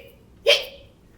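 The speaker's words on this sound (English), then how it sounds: "I know an incantation to cure the hiccups." A puppet ghost gives a single short hiccup, a quick voiced hic that is close and clear in an otherwise quiet moment of a bilingual puppet show.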